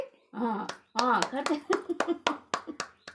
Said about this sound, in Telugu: మీరు కూడా చప్పట్లు కొట్టండి